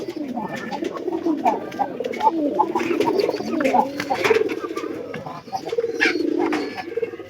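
A pigeon pair coos repeatedly and close by, a low throaty burbling that continues throughout with faint background noise.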